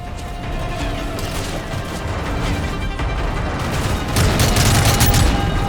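Gunfire and explosions in Call of Duty Modern Warfare 3, a dense fusillade of shots with booms building louder toward the end, with no speech.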